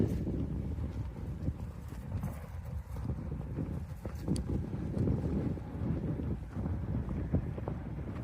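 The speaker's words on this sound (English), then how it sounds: "It's very windy." Strong gusting wind buffets the microphone outdoors on a disc golf course, a loud, constant low rumble with rough surges and no speech for several seconds.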